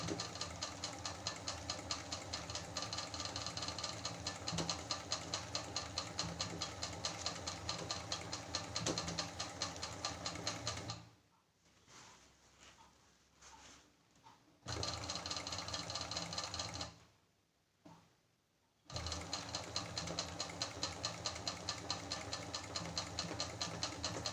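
A sewing machine stitches embroidery onto a sleeve with a fast, even mechanical chatter, stopping twice for a few seconds of near silence before starting up again at the same steady pace.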